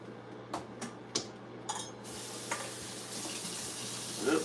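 Water runs from a kitchen tap while an unwashed dish is rinsed, with a few sharp clinks of dishes and utensils over a steady hiss of flow, close and moderately quiet.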